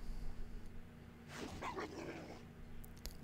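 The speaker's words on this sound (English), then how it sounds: "Then we're gonna come in with Moon Moon and we're going to Howl" Moonfang's howl attack in a Pet Battle, a wolf-like canine howl and yelp effect rising for about a second, faint and moderately distant over low background noise.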